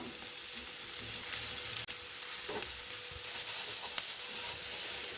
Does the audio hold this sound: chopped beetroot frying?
yes